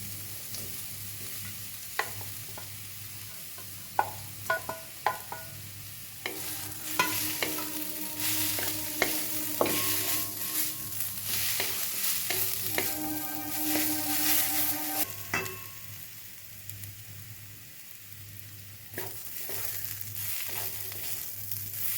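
Softened beetroot and pre-fried potatoes are stirred in a frying pan, with continuous soft sizzling broken by repeated scraping and clattering of a spatula, busier in the middle stretch and quieter toward the end, no speech.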